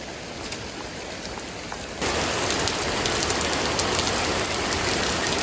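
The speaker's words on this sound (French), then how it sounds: "Mais il pleut tellement, il pleut tous les jours" Steady rain pours down in a dense hiss that suddenly grows heavier partway through, close and continuous with no voices.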